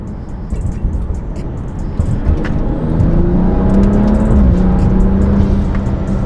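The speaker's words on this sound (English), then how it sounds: "we've got some burbles going on. I'm in sport mode right now" A BMW F30 engine with an MST intake in sport mode hums and rises steadily under load, with crackling, popping exhaust burbles scattered over the drone, close and loud.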